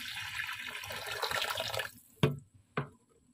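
Water pours from a glass into a cooking pot for boiling macaroni, a steady splashing stream for about two seconds, then two short clanks as it stops.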